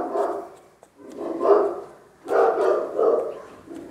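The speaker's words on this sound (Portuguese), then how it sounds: "Nosso amigo cachorro ali tá brabo hoje." A dog barks in several loud, rough bursts nearby, outdoors during garden work planting an American fern seedling, with short pauses between barks.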